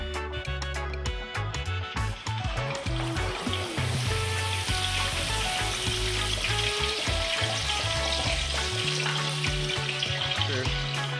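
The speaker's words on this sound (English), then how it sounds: "I'm gonna go ahead and put this in there and start frying my fish" Steady, loud sizzling and crackling of lane snapper frying in hot oil, continuous throughout with no talking.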